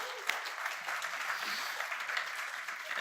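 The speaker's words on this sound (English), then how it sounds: "let's give a quick round of applause for the organization" A conference audience at Emberfest claps for the organizers, a brief, soft, continuous spread of many hands from the crowd with a slightly sharper clap near the start.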